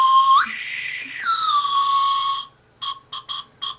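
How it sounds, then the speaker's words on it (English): A Chupa Chups Melody Pops strawberry candy whistle blown close up, giving a long sliding tone that rises and falls, followed by four short, sharp toots. "one of those whistle pops? It's a Melody Pops by Chupa Chips"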